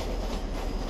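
A fast train rumbling past in the Roblox game Jailbreak, a steady dense roar of wheels and rail noise filling the whole brief moment with no break.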